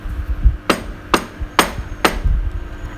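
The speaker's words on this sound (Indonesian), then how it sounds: "Gambar yang pertama adalah gambar memukul meja. Seperti ini bunyinya." Four sharp knocks on a table at a steady, even pace, close and loud, with short pauses between them.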